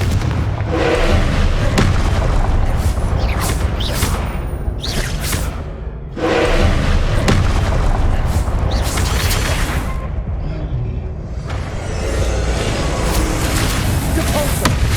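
Repeated Confringo spell blasts from Hogwarts Legacy hammer out in a dense run of loud, booming explosions with crackling bursts. One brief lull comes about midway before the barrage resumes at full force.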